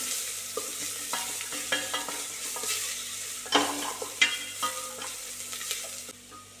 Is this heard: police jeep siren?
no